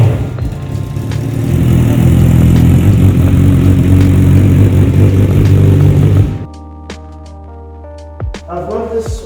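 A motorcycle engine starts and runs loudly with a steady mid-pitched drone for about six seconds, then cuts to a much quieter low hum with a few faint clicks and knocks.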